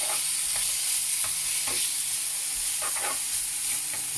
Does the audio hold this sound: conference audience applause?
no